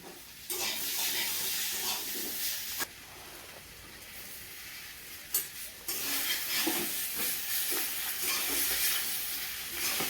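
Vegetables stirred and fried in a pan with green and dried chillies for a village-style vegetarian dish, a steady sizzle and hiss with scraping stir strokes throughout, briefly easing midway before the loud frying resumes.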